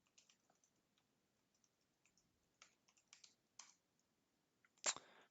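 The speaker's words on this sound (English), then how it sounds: "Maybe I'm just typing too fast." Quiet, irregular typing on a computer keyboard with scattered key clicks, ending in one louder sharp click; no talking.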